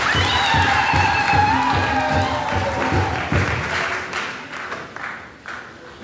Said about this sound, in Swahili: Makofi sana.